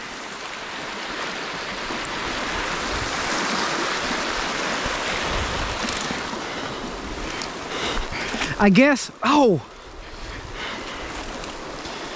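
Steady rain patters and hisses outdoors near a flooded beaver dam, with a voice briefly speaking and laughing near the end.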